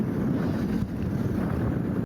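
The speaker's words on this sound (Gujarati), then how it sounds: "ઠંડી ઠંડી હવા ચાલી રહી છે." Strong, cool wind at Dabhari Beach near Surat around sunset, rushing and buffeting the microphone, a constant low roar with no voices.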